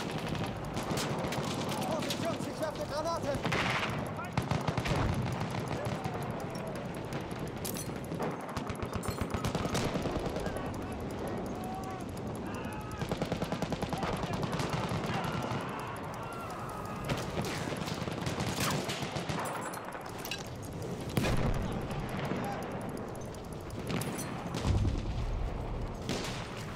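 Machine gun fire rattles almost continuously in a Battlefield 1 battle on the Amiens map, bursts and distant gunshots layered over a dense din of combat noise throughout.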